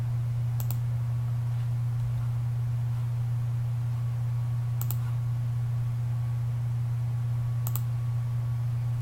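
A computer mouse clicks in CAD software, three sharp isolated clicks spaced a few seconds apart over a loud steady electrical hum.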